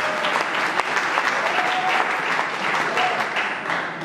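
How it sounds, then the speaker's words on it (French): Sustained applause from an audience at a spoken event, a dense steady wash of clapping lasting several seconds at fairly close range, with a faint voice briefly audible beneath it. "Applaudissez."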